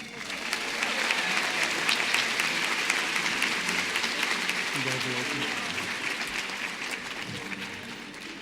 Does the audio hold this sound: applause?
yes